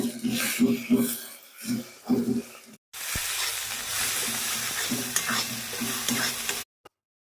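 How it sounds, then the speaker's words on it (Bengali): Mutton frying with coriander and cumin powder in a pan, stirred Bengali style. Rhythmic scraping strokes come first, then a pause, then a long dense sizzle with stirring before it cuts off. "হাফ চামচ ধনের গুঁড়ো হাফ চামচ জিরে গুঁড়ো ভালো করে নেড়ে নেব"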